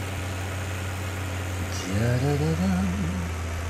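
Tractor engine in Farming Simulator 17, running at a steady low drone on a hill, then revving up with a rising, wavering pitch in the second half, fairly close and without talk.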